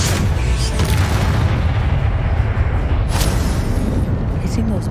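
Confringo fire spell explosions in the video game Hogwarts Legacy, a loud, dense rumbling blast that roars steadily throughout with voices mixed in.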